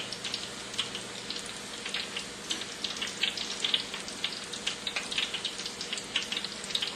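Shrimp patties fry in hot oil with a steady, dense sizzle and crackle that stays even throughout, with fine popping spatters and no voices.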